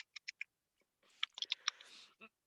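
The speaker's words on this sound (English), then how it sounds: "You just munching on the fucking camera." Close-miked chewing and munching into a microphone during a podcast, a few sharp isolated clicks followed by a denser burst of wet crunchy mouth sounds, no speech.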